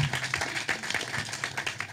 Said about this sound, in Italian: Fate il giusto applauso a Ciccio Foggia.